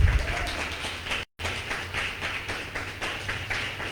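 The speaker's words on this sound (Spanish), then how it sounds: "Dele palmas al Rey." A church congregation claps during a sermon, a steady, moderately loud wash of many hands with an instant cut to silence about a third of the way in before the clapping resumes and keeps going.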